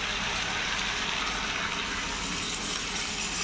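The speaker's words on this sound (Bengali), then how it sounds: "গরম পানি দিয়ে দেবা যেহেতু সিজবা পরিবা" Hot water poured into a cooking pot holding fried food and salt, making a steady, fairly loud gushing rush of liquid that continues unbroken throughout, with no voices.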